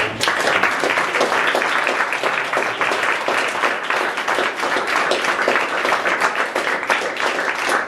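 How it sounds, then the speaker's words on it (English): A hackathon pitch audience gives a loud, continuous round of applause to welcome the next speaker to the stage, with dense clapping that stays strong throughout and has no talking over it. "So give her a very, very warm applause."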